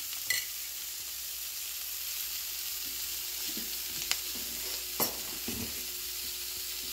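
Chicken pieces frying in a pan for Sri Lankan-style devilled chicken, a steady soft sizzle throughout with a few brief clatters of stirring, no voices.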